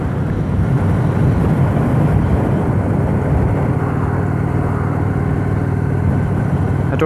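A Honda Shadow motorcycle cruises along, its engine a loud, constant low drone mixed with rushing wind noise on the microphone, steady throughout with no speech.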